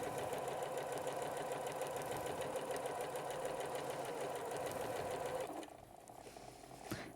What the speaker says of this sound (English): I can continue sewing all the way to the end, keeping this fabric edge aligned with my fabric guide.